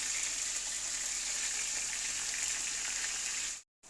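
Potato and taro pieces sizzling in hot oil, a steady bright frying hiss that holds evenly, then cuts out abruptly near the end.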